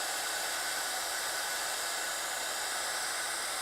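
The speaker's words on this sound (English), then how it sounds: "heat gun that you're using for our heat embossing?" A two-setting heat gun blows a steady, even whoosh of hot air for the whole stretch, close and unbroken, while stamped embossing on white cardstock is heated; no one talks.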